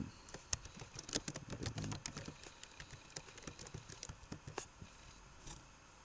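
Faint, rapid keystrokes on a computer keyboard as a restore point name is typed in Windows 10, an uneven run of soft clicks over a quiet background.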